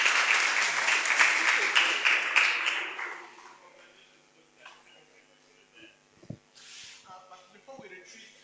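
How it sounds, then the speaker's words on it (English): Audience clapping hands at an entrepreneurship bootcamp event, a burst of moderately loud applause that dies away after about three seconds, leaving quieter room sounds and scattered voices. "Please, hand claps,"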